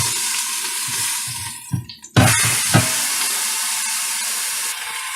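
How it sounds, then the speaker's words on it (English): A roast sears in a Cosori pressure cooker with a loud steady sizzle, broken by a short clatter and a sharp hiss as the meat is flipped, then a continuous close sizzle, no talking. "I'm going to go ahead and flip this over and sear the other side."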